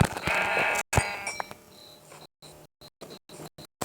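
Sheep in the Minecraft video game bleat in a few short, nasal calls near the start, followed by quieter game sounds and a steady insect-like chirping in the background.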